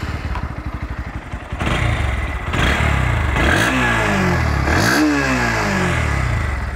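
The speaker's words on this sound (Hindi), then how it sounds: "चलिए इसका एग्जॉस्ट नोट सुनते हैं" A Bajaj Pulsar NS160 motorcycle exhaust note: a throbbing idle that rises into repeated throttle blips, with the engine revving up and dropping back twice, loud and close with no talk.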